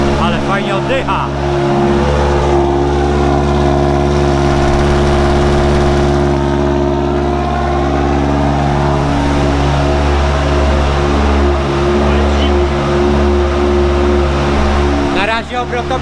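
Cosworth-equipped Ford Focus RX race car engine idling cold, a loud, steady, rough drone close by that holds evenly for the whole stretch, with a slight dip and change near the end.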